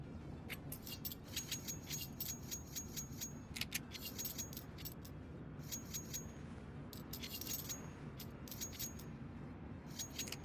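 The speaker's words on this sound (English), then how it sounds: "Sorry, typing a bit in match or in mod chat here." Keyboard typing close by during an esports match broadcast: quick irregular clicks in short bursts and runs, fairly faint over a low steady background hum, with no talking.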